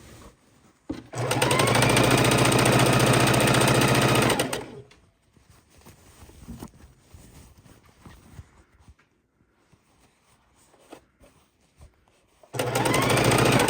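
A sewing machine runs loud and steady while stitching a quilt, stops for a long stretch of soft handling noise, then whirs again near the end.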